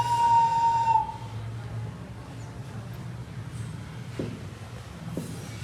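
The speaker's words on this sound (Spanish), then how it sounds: "Tiene una ocarina en la parte superior y un sonido más ancestral o un silbato en la parte" A clay ocarina-style whistle of ancestral design holds a single clear, steady note for about a second near the start, then falls silent over a low, rumbling background.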